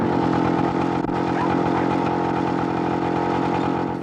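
Racing hovercraft roar steadily as engines drive rear fans that push air out through ducts, a loud continuous engine drone with a brief dip near the start.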